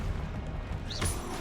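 Incendio fire spell cast in Hogwarts Legacy, a single whooshing burst with a bright rising flare about two-thirds through, riding on a steady low rumble of game ambience.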